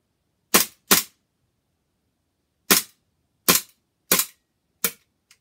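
A KWA PTP MKIII airsoft 1911 gas blowback pistol fired empty indoors in a basement, six sharp, loud cracks at irregular intervals, two close together, then four spaced apart, the last one much fainter, with no talking.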